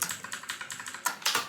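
Quick, steady typing on a computer keyboard during a Python coding lesson, close and clear, with rapid clicking keystrokes and a few heavier taps at the end.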